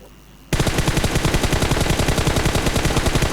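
Sustained rapid automatic gunfire in PUBG Mobile, loud and close, starting abruptly after a brief quiet moment and continuing as a steady rattling burst without pause.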